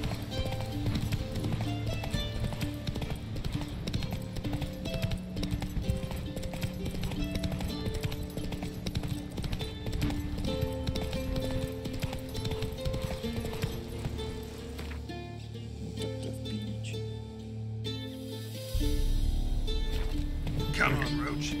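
Geralt's horse Roach galloping in The Witcher 3, a continuous drumming of hooves under game music and someone talking, with a brief quieter dip before the hoofbeats and music return.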